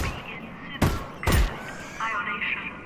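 Two sharp, loud gunshots in the VR video game Half-Life: Alyx, a short pause between them, set against a low game ambience with faint background sounds.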